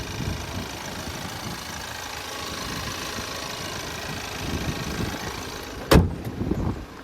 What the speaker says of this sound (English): there's that 2-liter EcoBoost engine